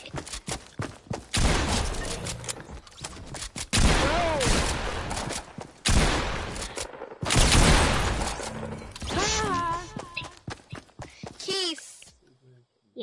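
Sharp sniper rifle shots from a Fortnite match crack out in a rapid string of loud impulses amid dense game noise, with excited voices talking over and between the blasts.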